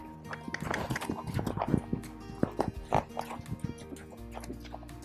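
Hooves clop irregularly at a walking pace, fairly close, with scattered animal snorts and background rustling.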